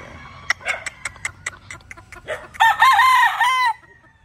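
Butcher bloodline gamefowl rooster crowing nearby, preceded by several short clucks and calls, then one loud, drawn-out crow of about a second before it breaks off.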